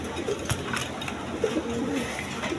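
A pair of caged pigeons with freshly hatched chicks and split eggshells gives soft, close coos over a constant noisy hum, with a few brief knocks and no talk.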